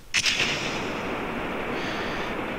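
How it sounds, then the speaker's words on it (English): A rocket launching in Kerbal Space Program, opening with a sharp ignition burst followed by a steady roaring engine rush that holds loud and continuous. "let's launch and hope this thing does not explode on me"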